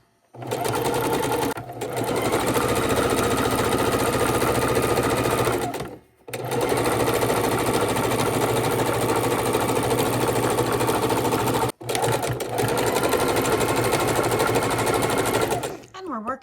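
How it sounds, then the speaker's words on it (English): Heavy-duty Singer sewing machine running a double zigzag stitch while appliquéing scrap fabric hearts on a quilted table runner: loud steady whirring bursts broken by three brief pauses, with no talk. "So I have the machine set on, the heavy-duty Singer machine set on the S1"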